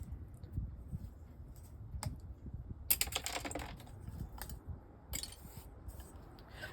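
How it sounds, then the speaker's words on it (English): Sandpaper rubbed by hand over a fired ceramic piece, giving soft, close scratchy strokes in short bursts with a few sharper rasps, fairly quiet throughout. "just take a little bit of sandpaper and stiffy that up"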